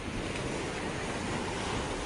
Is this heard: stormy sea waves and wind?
yes